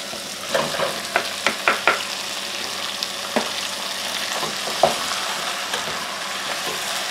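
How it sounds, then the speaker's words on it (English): Onions and pepper fry in a pan as chopped, still partly frozen skinned tomatoes go in, giving a loud steady sizzle with scattered clinks and stirring knocks from a utensil. "I'm going to add the chopped up but still relatively frozen skinned tomatoes"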